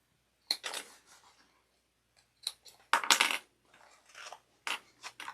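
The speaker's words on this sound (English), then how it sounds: "as you're doing the little snips, you can feel the fabric give a little bit" Scissors make small snips into fabric as a crossbody bag is sewn, a series of short, crisp, close cuts in irregular clusters with quiet pauses between them.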